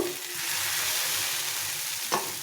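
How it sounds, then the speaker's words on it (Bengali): Semolina and flattened rice batter frying in a pan, a continuous close sizzle with a soft stirring scrape and one brief clack near the end, no talking. "এভাবে করে আমি বাকিটাও ভেজে নেব"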